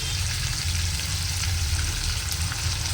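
Fried chicken stirred in a hot pan, loud steady sizzling and frying hiss with soft scraping of the stirring throughout, close and continuous with no voices.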